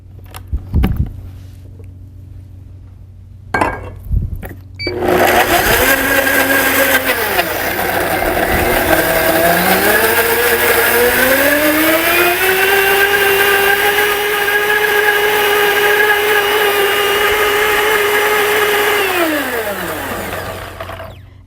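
A blender blending a sauce whirs loudly and steadily for several seconds, its motor pitch climbing as it spins up, then winding down after a couple of short pulses.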